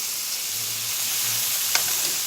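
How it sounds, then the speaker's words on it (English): Chicken sizzles and fries in a copper pan, a loud steady hiss of hot fat close up with a brief scrape as a piece is flipped, no talking. "We're just flipping the chicken here"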